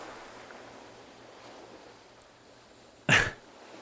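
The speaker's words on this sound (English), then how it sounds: "The waves seem so familiar, don't they?" Ocean waves wash steadily onto a shore as a soft, even rush of surf, broken near the end by one short, louder burst of noise.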